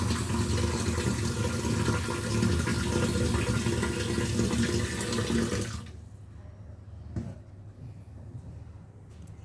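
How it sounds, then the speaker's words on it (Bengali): Lukewarm water pours steadily and fairly loudly for about six seconds into flour for chitui pitha dough, then stops abruptly, leaving faint kitchen noises and a few soft knocks. "এখন আমি কুসুম গরম পানি দেব"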